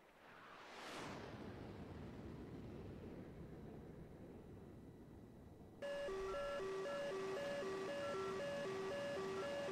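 Radar tracking warning tone inside an F-14A cockpit in DCS World, a loud, steady pulsing electronic beep that starts suddenly partway through over a low engine and wind rumble.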